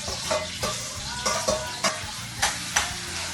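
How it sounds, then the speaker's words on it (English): Saltfish stirred in a pot for Jamaica's national dish, ackee and saltfish: a steady sizzle with a series of sharp spoon scrapes and knocks against the pot, close and fairly loud, with no talking. "Then we're going to grab our saltfish and add to the pot."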